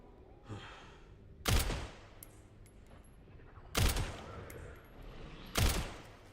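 Three sharp, loud gunshots ring out from Resident Evil Requiem, evenly spaced a couple of seconds apart, each with a short ringing tail over quiet game ambience.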